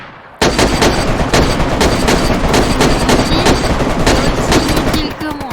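Rapid bursts of video game gunfire crackle loudly and almost nonstop in a polar excursion mode of Maelstrom, with dense overlapping shots and a brief pause near the end, while players talk over the shooting.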